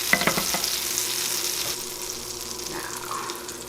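Butter sizzling in a frying pan before sliced rehydrated sunchokes go in, a steady moderate hiss with a few light clinks near the start.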